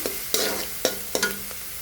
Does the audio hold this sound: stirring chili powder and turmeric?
yes